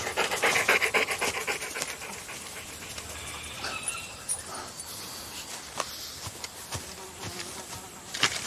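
Dogs panting close by, rapid rhythmic breathy puffs that are loudest at the start, with buzzing insects around them.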